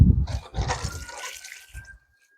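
Water splashes and pours onto garden mint plants, a short close burst of gushing and spattering that trails off into silence.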